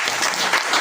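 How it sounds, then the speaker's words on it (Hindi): An audience at a training event claps in a dense, steady burst of loud applause, filling the whole moment with no talk. "ताली कैसी बजाओगे इनके लिए?"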